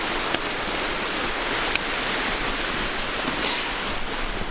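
Steady broadband rush of running water fills the scene high in the Alps, a constant close roar with no breaks and a couple of faint clicks on top.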